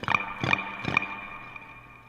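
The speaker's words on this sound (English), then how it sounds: "Got some cool delay sounds there, though." A guitar played through a delay effect sounds three repeated, evenly spaced plucked notes about 0.4 seconds apart, each trailing off into a ringing tail, with no voices.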